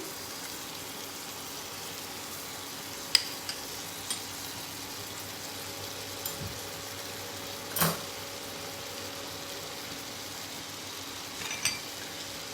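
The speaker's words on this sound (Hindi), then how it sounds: "उसमें हम डालेंगे थोड़ा सा बटर, अराउंड 1 टेबलस्पून के आसपास या 2 टीस्पून." Butter melting in a pan gives a steady, soft sizzle and crackle, with a few small pops and scrapes now and then and no talking.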